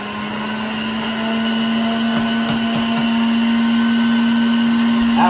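A juicer runs steadily while garlic is fed through it, a continuous close motor whine with faint crunching bursts partway through.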